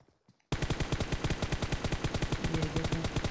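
Automatic gunfire in the mobile battle-royale game PUBG Mobile: after a brief quiet moment a loud, rapid burst of evenly spaced shots rattles on without a break until the end.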